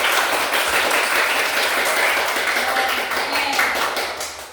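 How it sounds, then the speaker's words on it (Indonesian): A primary school class in a biology lesson breaks into continuous hand clapping, dense and even for several seconds before tapering slightly; a brief word from the teacher is heard at the start. "Tepuk tangan dulu lagi semangat"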